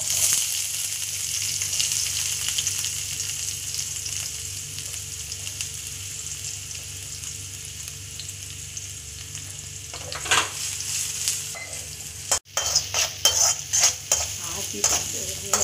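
Chopped onions sizzle steadily in a hot pan on a home stove, with a spoon scraping and stirring near the end as the frying grows louder and more broken.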